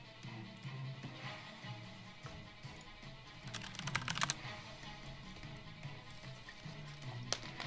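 Computer keyboard clatters with steady typing and a brief burst of faster, harder keystrokes near the middle, close and fairly quiet under a soft background hum.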